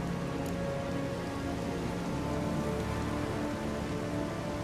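Rain falls steadily in The Witcher 3: Wild Hunt, a dense, even hiss of drops on surfaces with no pauses, fairly quiet and continuous throughout.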